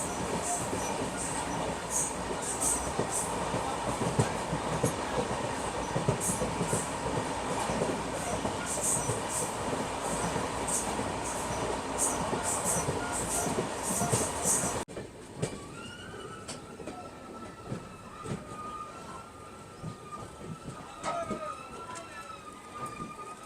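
Passenger train running through the Thar Desert in India, a loud steady rumble of wheels and carriages with rhythmic clatter, then abruptly quieter as it slows toward a station with faint squeals.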